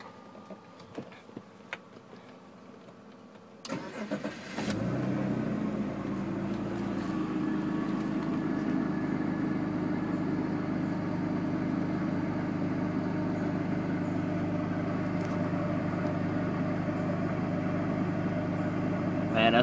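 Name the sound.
BMW 3 Series car engine starting and idling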